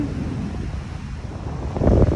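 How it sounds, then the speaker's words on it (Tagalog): Strong wind blows outdoors at Manila Bay, a steady loud roar buffeting the microphone. The gusting swells louder near the end. "dahil ay malakas na naman ang hangin"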